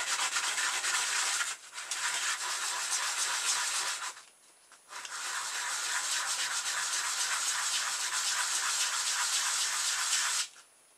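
A plastic pop bottle top, shaped into a wheel, is rubbed with sandpaper in long continuous scratchy strokes, close up, broken by two short pauses.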